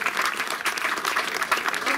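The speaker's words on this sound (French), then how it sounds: "une ovation pour le vainqueur de l'édition 2023, Johan Soub." Steady, dense applause from a large crowd celebrating the winner of the 2023 Tour du bassin d'Arcachon race, continuous clapping with a voice talking over it throughout.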